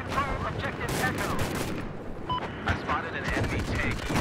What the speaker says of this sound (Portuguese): Vou dar uns tiros aqui